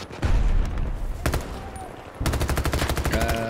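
Gunfire rings out in the video game Battlefield 2042, with a heavy burst and then a single loud shot. A rapid automatic volley closes it out, loud and close.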